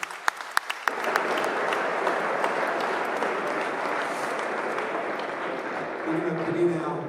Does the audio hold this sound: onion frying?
no